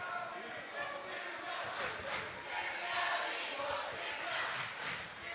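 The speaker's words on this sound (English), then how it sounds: "The crowd firing up now for the home squad" Home crowd at a high school boys basketball game, Jeannette at Serra Catholic, keeps up a steady broad roar of cheering, moderately loud and fairly distant, with a few stronger swells.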